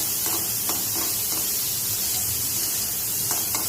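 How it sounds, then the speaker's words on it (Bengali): Chopped capsicum and carrot being stirred and fried in a pan, giving a steady close sizzle and hiss with faint scrapes of the spoon at intervals throughout. "আর ক্যাপসিকাম কুচি দিয়ে ভালো করে আমরা নাড়াচাড়া করবো।"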